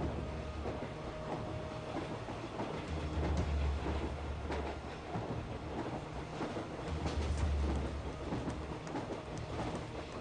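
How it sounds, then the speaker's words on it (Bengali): A train departing from a station platform, a continuous rumbling clatter of wheels on rails with low pulsing swells, heard alone at moderate distance without voices. "ট্রেনটা ছেড়ে দিল"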